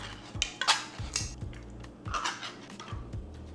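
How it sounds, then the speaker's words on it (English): Chopped vegetables being tossed and mixed in a bowl, giving a few short scraping clinks and knocks of utensil against the bowl, close and fairly quiet, with uneven pauses between strokes. "let's just put everything in a bowl and mix it all up"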